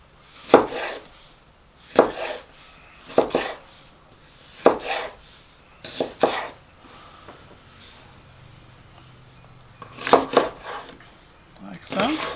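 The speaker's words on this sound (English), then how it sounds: "And then just chop it into little pieces." A knife chopping vegetables on a cutting board for fresh salsa, about eight distinct sharp chops spaced a second or more apart, some doubled, close and clear with a quiet pause midway.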